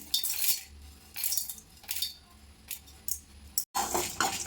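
Chana dal and urad dal tip into a hot pan for dry roasting, giving short bursts of dry rattling and scraping clatter up close, separated by quieter pauses.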